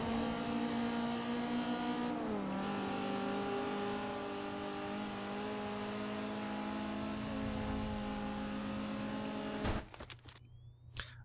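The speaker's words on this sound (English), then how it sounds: "All the different cars, they have so many good sounds." Steady engine drone with a pitch that drops and holds, like a car cruising in the racing game Forza Horizon 2, ending with a burst of rougher mechanical noise.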